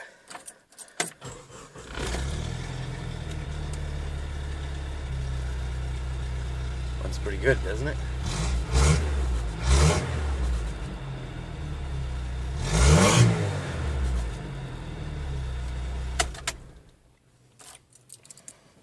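A 1996 Jeep Cherokee's four-cylinder engine with a five-speed manual and mildly modified exhaust starts up after a brief crank and revs a few times, heard from the driver's seat; someone speaks briefly near the end.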